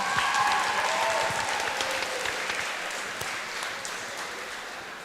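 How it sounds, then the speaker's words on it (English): A crowd applauds steadily for the graduating seniors of the Franklin High School wrestling team at a tri-meet, a dense, sustained clapping that fills the gym and fades slightly toward the end. "please give one last very loud round of applause for our seniors"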